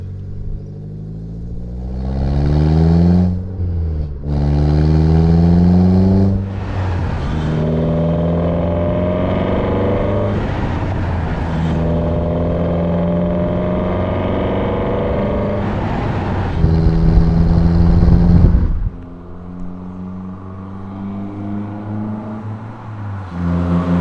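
Renault Sandero RS engine with a cold air intake, intake roar and exhaust note at high RPM on a closed track, loud and close, revving up through rising harmonics with gear changes and a drop back near the end.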